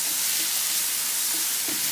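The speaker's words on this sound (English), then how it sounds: "we're going to let them saute with the onions and the zucchini" Onions and zucchini sautéing in a hot pan make a dense, even sizzle that holds steady and close throughout, with faint stirring underneath.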